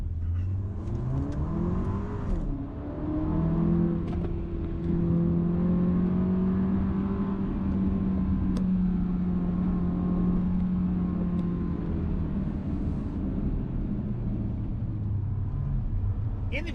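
A 2021 Porsche Macan SUV's turbo engine pulls under throttle, a steady close engine drone whose pitch climbs and holds through a long acceleration, with a voice faintly present at times.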